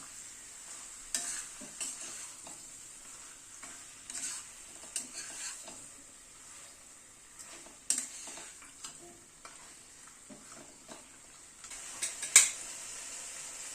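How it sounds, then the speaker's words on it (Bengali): Chicken pieces stirred with spices in a pan, producing soft scraping and clinking of a utensil against the pan under a faint steady sizzle, with occasional louder knocks, quiet and close with no voices. "চিকেনটা মশলার সাথে মিশিয়ে নিচ্ছি।"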